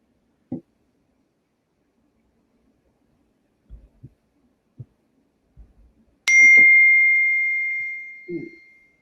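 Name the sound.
computer notification alert ringing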